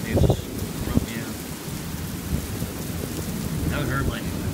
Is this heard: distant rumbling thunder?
yes